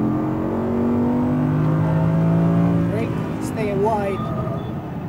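An Audi R8 V10 rear-wheel-drive engine pulls hard on a racetrack, its steady rising drone filling the clip, with a voice talking over it near the end.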